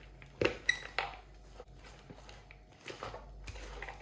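Utensils clink and scrape against a bowl while a vegan spicy salad is tossed, a few sharp clatters near the start, then softer rustling and light knocks.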